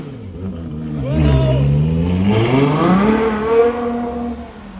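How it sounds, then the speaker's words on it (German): A supercar on a Düsseldorf street goes to full throttle, its engine note climbing in pitch through a long loud roar, heard close and alone. "Und jetzt Vollgas"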